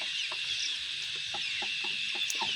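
45-day-old chickens weighing about 1.5 kg cluck in short, soft, repeated notes on a village farm against a steady high insect-like drone, moderately distant.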